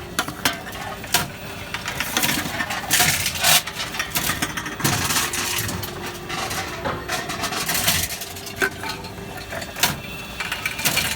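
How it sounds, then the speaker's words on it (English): A Tomra T-70 reverse vending machine's compactor runs with a clogged sound. It churns and grinds continuously, broken by irregular loud clunks, rattles and crunching bangs of crushed containers, all close and harsh. "My hands compactor sounds a little bit clogged up."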